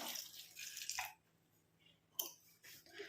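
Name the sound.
pouring a tumbler of water onto flowers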